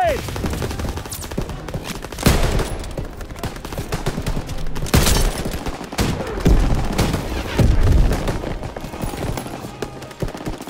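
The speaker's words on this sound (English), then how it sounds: "Grenade!" Gunfire in the Call of Duty WWII video game, sustained loud bursts of automatic fire with sharp booming blasts like a grenade explosion, dense and continuous, with voices shouting now and then.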